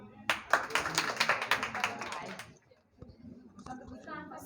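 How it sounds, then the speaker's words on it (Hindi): A classroom audience clapping after a quiz answer, a burst of dense, busy hand claps for about two seconds that then drops away, followed by quieter voices and room noise. "बजाओ ताली"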